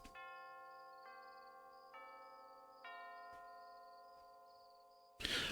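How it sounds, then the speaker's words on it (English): Fancy doorbell chimes in a visual novel game ring out as a soft, clear sequence of four sustained tones stepping in turn and fading, followed by a sudden burst of noise at the end. "The fancy chimes ring softly from inside."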